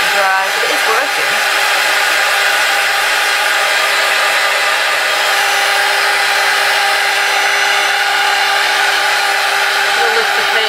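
A hair dryer blows steadily and loudly at close range, drying paint mixed with hand sanitizer, with a continuous whooshing roar and a brief change in tone near the start.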